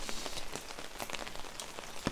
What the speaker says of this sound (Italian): mi piace questo ticchettio della pioggia sopra l'ombrello